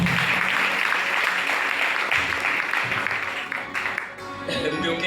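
A church congregation clapping for Jesus during a Swahili service: loud, dense, sustained applause with voices mixed in, easing slightly near the end as a voice rises above it.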